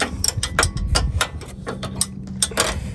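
Hand ratchet snugging bolts on a front RockJock Antirock sway bar for a Jeep JL, a close series of quick metallic clicking bursts with short pauses between strokes, no talking.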